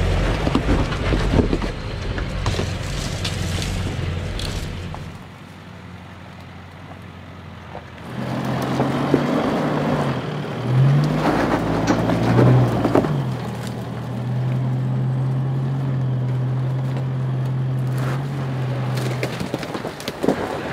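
A 4WD with locker engaged crawls slowly up a steep rock step on a remote bush track, its low engine drone steady beneath crunching and creaking of tyres on rock, with a lull partway through.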